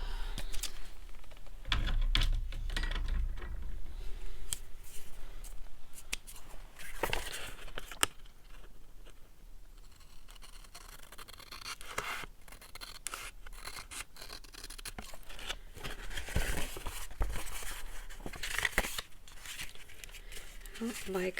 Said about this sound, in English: Okay, I need my scissors.